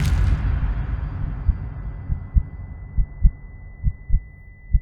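A deep, thudding heartbeat pulses in irregular beats over a low rumbling wash, close and muffled like blood pounding in the ears.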